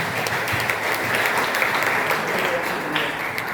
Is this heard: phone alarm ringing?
no